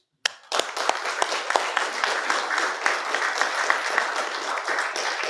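After a sharp first clap, a room of people breaks into steady applause for state police lead investigators at a West Virginia governor's announcement, moderately loud with distinct individual claps.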